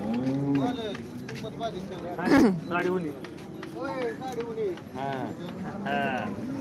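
Dairy cows low and moo repeatedly in drawn-out calls at the Modnimb cow market, mixed with steady crowd chatter and people talking nearby.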